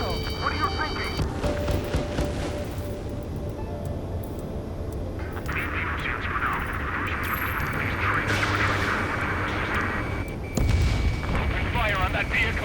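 Ace Combat 7 combat action roars with continuous heavy gunfire and booming explosions over the rumble of aircraft. Radio chatter talks over the din, and a sharp blast lands near the end.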